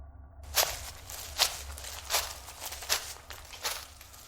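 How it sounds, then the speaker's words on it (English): Footsteps approaching through a forest, a steady series of about five crunching steps on the ground, moderately close and alone over low background rumble. "I heard footsteps nearby."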